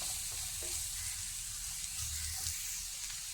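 Sliced onion and carrot, cut lengthwise, sauté in a hot pan with a steady, close sizzle and faint stirring scrapes throughout, with no voices.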